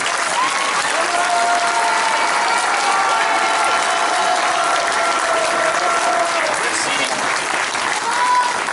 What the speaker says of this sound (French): Merci d'applaudir Thibaut Renonat